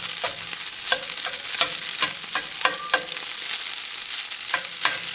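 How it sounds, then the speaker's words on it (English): Ground-beef substitute frying in a little olive oil while a spatula breaks up chunks, repeated sharp scraping taps against the pan over a steady close sizzle, no voices. "I'm going to use this spatula to kind of break it up a little bit more, some of the larger chunks"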